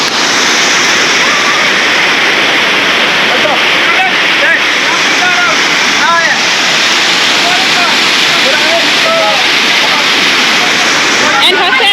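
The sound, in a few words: Nyaroha waterfall rushing water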